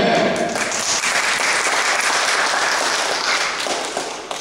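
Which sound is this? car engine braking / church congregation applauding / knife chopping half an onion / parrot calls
church congregation applauding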